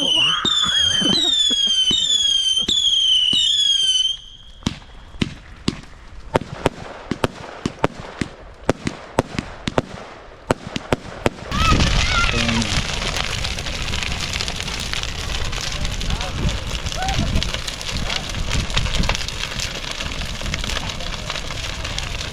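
Roman candle fireworks on bonfire night fire off in a rapid series of sharp, loud pops and crackles, first with whistling, then a steady roaring crackle of the big bonfire takes over.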